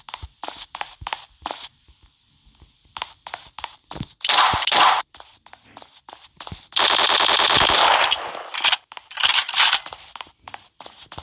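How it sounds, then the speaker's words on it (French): Desert Eagle pistol fire in the video game Block Strike, with short bursts of loud game gunfire among clicks and footsteps, then two sustained rattling volleys. "On va essayer de mettre une balle au Deagle."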